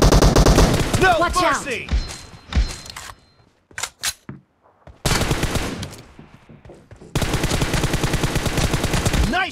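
Gunfire in a shooter video game with a blue team: loud bursts of automatic fire and single shots come in clusters, mixed with game voice callouts and effects.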